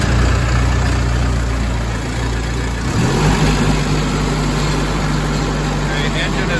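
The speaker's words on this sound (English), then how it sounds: "engine is sped up because I'm in rabbit mode" A wireless crawler's engine runs loud and close, a dense steady drone whose pitch rises partway through as it speeds up in rabbit mode, with a constant high whine overhead.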